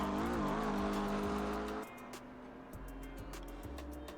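A McLaren GT3 race car engine roars in a multi-class racing video game at Spa. A loud, high rev note climbs and then drops sharply, and a lower engine drone follows, broken by rapid clicking ticks.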